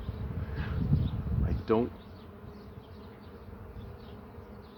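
Honey bees buzz around hive frames as the first honey super is added, a soft, faint hum in the background under brief close talk.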